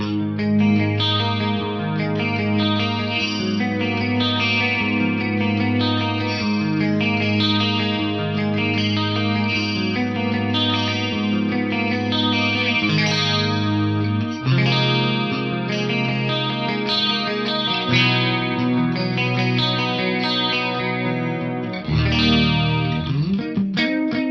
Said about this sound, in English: it does have a little bit of that chorusing kind of sound about it